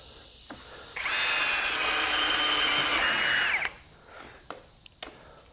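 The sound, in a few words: Ryobi 18V compact drill drilling 1/4 inch steel plate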